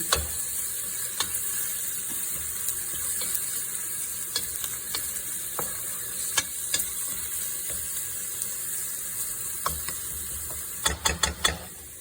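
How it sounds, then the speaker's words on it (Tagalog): Garlic frying in a pan before the chicken is added: a steady sizzle runs throughout, with repeated scrapes and clicks of a utensil stirring, ending in a quick burst of taps against the pan. "hintayin lang konti na medyo maluto yung garlic para ilagay na yung ating chicken"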